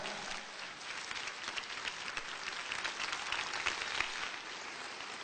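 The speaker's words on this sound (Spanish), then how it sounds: "denle un aplauso al Señor" Steady applause from a church congregation, a dense even wash of hands clapping throughout, moderately distant with no voices standing out.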